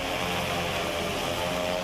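A hexacopter blood-delivery drone flies with a steady, loud whirring rotor drone that holds constant throughout, with no talk over it.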